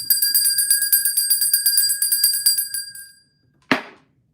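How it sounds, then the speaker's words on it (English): A small handheld bell jingles in a rapid, steady shake for about three seconds, bright and close, then stops, followed by a single short thud after a brief pause. "I'm getting the bell out"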